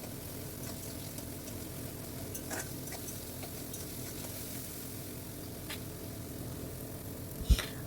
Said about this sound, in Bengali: দিয়ে দিলাম হলুদ লঙ্কা গুঁড়ো, ভালো করে মশলাটা কষিয়ে নিতে হবে।